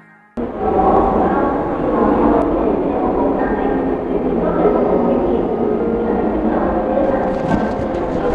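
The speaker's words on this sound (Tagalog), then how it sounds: "So the Disneyland train is here." The Disneyland train pulls in with a loud, steady rumble of wheels and rolling cars, close by, with faint voices of people waiting mixed into the noise.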